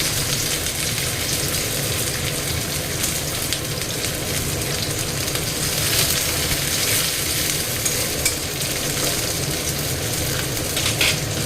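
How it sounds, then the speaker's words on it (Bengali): Onion fries in a pan with a loud, dense, unbroken sizzle that sounds a little like rain. Faint stirring scrapes run underneath, it stays steady throughout, and no one speaks. "পেঁয়াজটা ভাজবো।"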